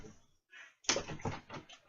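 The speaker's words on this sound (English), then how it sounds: "Why is this stupid door locked from the outside?" A locked door being tried and rattled, a series of quick knocking clatters after a brief pause, close and fairly loud.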